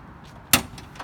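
A 2003 Ford Econoline Regency conversion van with a 5.3-liter engine has its door pulled shut from the inside, making a single sharp thud that stands out briefly against a quiet background with no talking.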